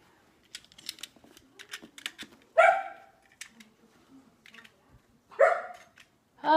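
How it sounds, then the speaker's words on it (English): Dogs barking indoors during a furniture restoration job, with a few scattered sharp barks, some faint clicks and scraping in between, all fairly close and at a moderate level with no voices. "my dogs are barking."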